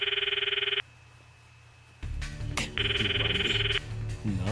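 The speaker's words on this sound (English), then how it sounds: "I stopped the video and called Mayuri's phone for my address book." A phone rings as Mayuri is called in the video game Steins;Gate Elite: bursts of an electronic ringtone, one before a pause and one after, over a low musical background.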